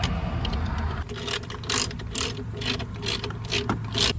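Ratchet wrench tightening a battery terminal post inside a RAM ProMaster van, giving a run of quick, close mechanical clicks in short bursts over a steady low background hum.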